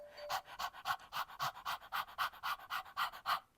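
A person imitates a hot dog's rapid open-mouth panting: quick, rhythmic breathy huffs, about four per second, close and soft, with no talk over them.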